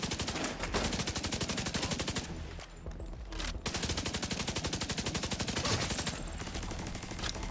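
Sustained rapid minigun fire in The Division 2, a loud dense rattle running almost continuously with a brief pause midway.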